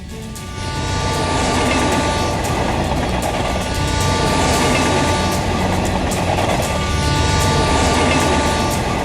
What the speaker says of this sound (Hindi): टेल्गो जब देश के सबसे तेज चलने वाली ट्रेन गतिमान एक्सप्रेस की गति को पीछे छोड़ने के लिए पटरी पर उतरी